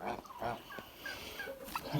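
Several geese honk and chatter in short, uneven calls, close by, with soft background noise between the calls.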